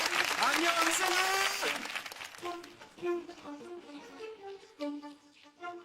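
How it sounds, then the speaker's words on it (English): An audience at a social-media industry event in Jeju breaks into applause that lasts about two seconds, a voice speaking over it, then the clapping gives way to someone talking alone. "Let's give him a huge round of applause."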